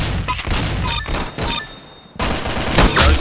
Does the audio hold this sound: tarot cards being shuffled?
no